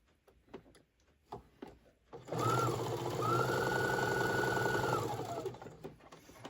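A sewing machine runs one continuous seam on a cosmetic pouch for about three seconds, close and steady, after a few light clicks and taps of handling the fabric.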